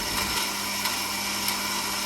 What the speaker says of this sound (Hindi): बस यहाँ पर अब इसको मिक्सी में डाल के तो इसका पाउडर बना लेंगे।